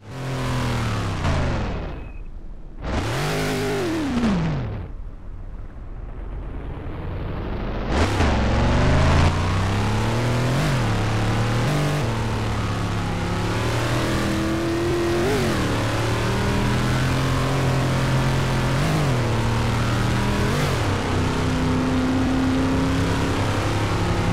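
A racing car in the Roblox game Top Notch: Performante revs hard through repeated gear changes, its engine note climbing and dropping as it passes and accelerates, loud and continuous, with no talking.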